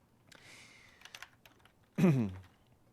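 A few light keystrokes tap on a computer keyboard while working in a LibreOffice Calc spreadsheet, followed by a short spoken phrase nearby.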